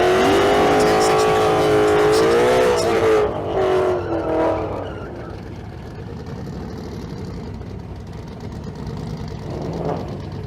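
Pro Mod drag race car running at a Street Car Super Nationals event in Las Vegas: a loud, high-pitched engine wail that sweeps and shifts, then fades into a distant roar with crowd and announcer noise behind.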